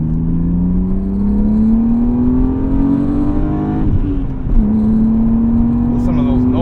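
A 1998 BMW M3 E36 with a dynamic intake and aftermarket exhaust pulls steadily from inside the cabin, its engine note climbing through the gears with a short break at a shift before rising again, loud and continuous.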